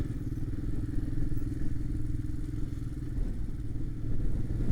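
A Honda 650 Transalp motorcycle rides through mud with a steady, mid-pitched engine drone and some clattering and thumps underneath, running continuously without speech.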